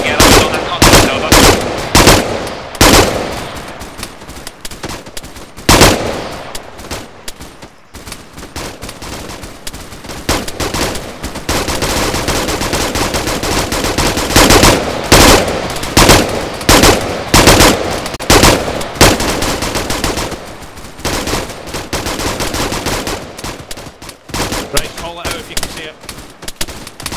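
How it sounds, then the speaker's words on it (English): Sustained suppressive machine gun fire in a military video game battle, loud and continuous bursts overlapping in dense volleys for the whole stretch, with some speech faintly underneath. "Keep the suppressive fire up."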